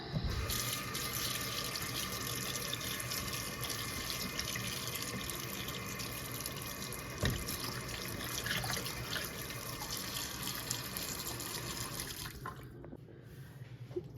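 Food is rinsed under a running kitchen tap, a steady close hiss of water splashing into the sink that stops abruptly near the end.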